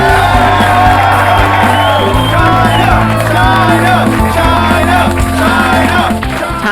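Loud wrestling crowd cheering and whooping for Chyna, a constant roaring wall of voices with shouts rising above it, underlaid by a heavy steady hum.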